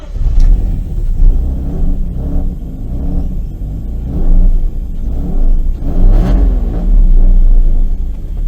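A Lexus IS200 car engine running with a low, steady rumble and rising revs, close and fairly loud. Throttle swells recur across the stretch, with no voices.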